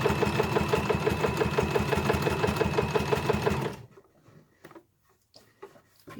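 A sewing machine stitches fabric for a carry bag in a rapid, regular mechanical patter close by, then stops partway through, leaving faint handling noises.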